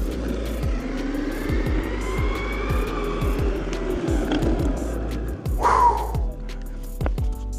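An OMW Cavalry electric off-road longboard rolls over rough ground, its motor whine rising as it accelerates and then easing off under braking, with steady rumble and bumps from the wheels close by.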